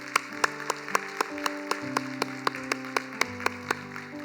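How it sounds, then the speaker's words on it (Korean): At a church youth service, hands clap in a steady, even rhythm over sustained keyboard chords, each sharp clap standing out at a moderate distance. "우리 한 번 더 높이 하나님께 박수로 영광 올려드리겠습니다"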